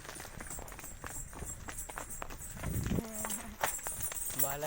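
Bullock hooves clip-clop in a quick, irregular rhythm close by, mixed with rattling and creaking cart movement and brief snatches of voices.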